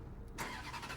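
A Ferrari F430's 4.3 V8 kicks in after a brief quiet moment, then settles into a steady, deep, close-up idle with a low rumbling burble.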